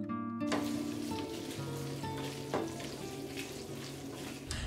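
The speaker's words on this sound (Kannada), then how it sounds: "ಒಗ್ಗರಣೆಗೆ ಜೀರಿಗೆ ಮತ್ತು ಬೆಳ್ಳುಳ್ಳಿ, ಕರಿಬೇವು ಹಾಗೆ ಒಣಮೆಣಸಿನ ಹಾಕಿ ಫ್ರೈ ಮಾಡ್ತೀನಿ." Cumin seeds, garlic, curry leaves and dried red chillies crackle and sizzle in hot oil for a tempering, a steady close frying hiss lasting throughout with no talk.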